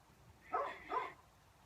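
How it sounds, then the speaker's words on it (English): A neighbour's dog gives two short, distant barks in quick succession, faint against a quiet outdoor background. "Enjoying the strident tones of our new neighbor's dog. Objects to everything that goes on around here."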